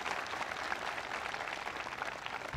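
Applause from an audience at a college presidential event greets tribal chairman Derek Bailey, a fairly faint, steady patter of clapping lasting a few seconds.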